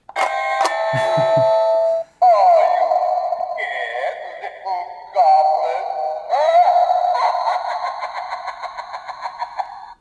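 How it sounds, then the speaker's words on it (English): A Halloween doorbell plays a spooky sound effect, a loud electronic chime and eerie tonal melody with a brief pause, then a second run of warbling tones that fade out. "I'm starting to amass quite a collection of Halloween doorbells"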